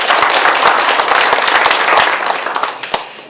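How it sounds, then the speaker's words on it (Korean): Dense, loud applause from an audience at a Korean county mayor candidates' debate in Sabuk, Jeongseon, rapid claps filling the room and slowly thinning out toward the end. "여러분 다시 한번 박수 보내주시면 감사하겠습니다"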